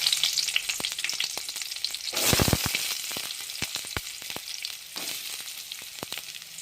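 Onion and green chilli go into hot oil already holding cumin and mustard seeds. A loud burst of frying follows, then a steady sizzle with sharp spattering pops and crackles throughout, and no voices.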